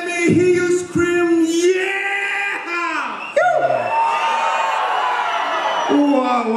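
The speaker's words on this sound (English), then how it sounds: "let me hear you scream" Concert crowd screaming and cheering loudly for several seconds, a dense wash of high-pitched yells and whoops with a shouting voice rising over it at the start.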